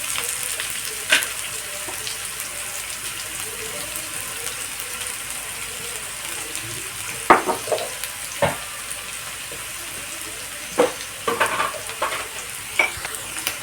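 Grated carrot curry stirred and frying in a pan, a steady low sizzle with scattered scraping spoon clicks across the middle and end.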